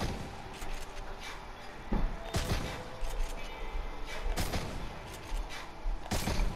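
Gunshots in the video game Fortnite, several sharp, loud shots spaced a second or two apart amid weapon-swap clicks and background game noise, with no talking.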